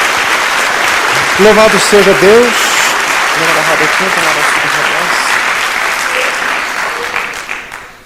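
Applause from a church congregation praising the Lord, a sustained wash of clapping at fairly loud level that tapers off toward the end, with voices speaking and calling out over it early on.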